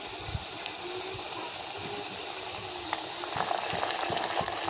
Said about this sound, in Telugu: తాలింపులో ఇంగువ వేసేసుకోవాలి పచ్చిమిర్చి కరివేపాకు వేసేసుకున్నాను